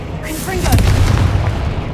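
A Confringo fire spell blast in Hogwarts Legacy, a loud, close booming burst that rumbles for about a second, with a voice speaking over the start.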